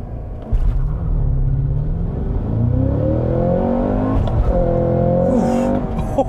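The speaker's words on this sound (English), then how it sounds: "The car does have launch control, which is gonna be tricky with a stick, but we'll see what we can get here" A 2022 Cadillac CT5-V Blackwing with a six-speed manual launches hard using launch control, its engine roaring up through the revs in a loud, close climb, easing briefly at a shift before pulling again.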